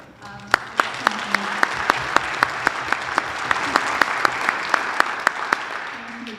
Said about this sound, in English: If we get one last applause to the graduates.